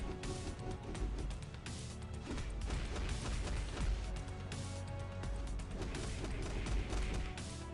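Chain Explosion Smash skill in the Marvel Future Fight mobile game: a dense, continuous barrage of overlapping crashes and blasts with heavy low rumble, loud and sustained throughout with no break.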